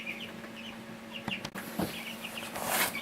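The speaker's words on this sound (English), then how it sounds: "Our meat birds are noisy, in a feeding frenzy in the background." Meat chickens cluck and squawk steadily in a feeding frenzy, a busy, fairly faint background chorus of short calls with some louder bursts near the end.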